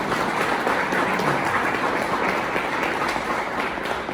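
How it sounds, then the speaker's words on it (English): Sustained applause from a crowd at a Rotary Club criterium wrap-up event, steady dense clapping filling the room, loud and continuous without a break. "How about a round of applause for that?"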